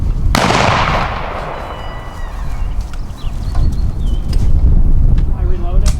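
A black-powder musket shot fired at a historical reenactment raid, a single sharp blast near the start that trails off into crowd murmur and shouted drill commands.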